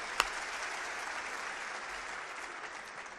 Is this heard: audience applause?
yes